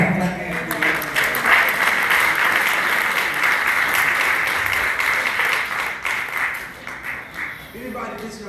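Church congregation clapping hands during a Sunday morning worship service, loud continuous applause that holds steady for several seconds, then thins out and fades as a voice comes in at the end.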